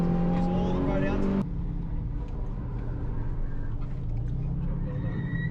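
A Toyota 86 on a race track, Wakefield Park, drones with engine tone under a clear voice in the car, the tone shifting after a sharp change early on, then a steady motor hum continues.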